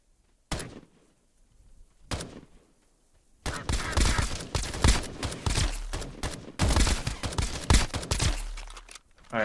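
Gunfire from the game Escape From Duckov: a couple of isolated sharp shots, then a rapid string of loud bursts and bangs, close and punchy, with quiet gaps between early shots.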